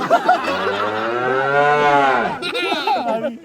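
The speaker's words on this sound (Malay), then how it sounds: "Lembu Melayu ni, lembu Mexico." A Malay-breed cow at a Hari Raya Haji sacrifice gathering gives one long, loud, drawn-out moo close by, swelling and then fading, with faint crowd noise around it.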